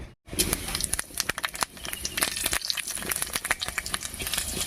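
Loud, steady sizzling of panch phoron and dried red chillies hitting hot oil, with crackling pops scattered throughout after a brief silent start.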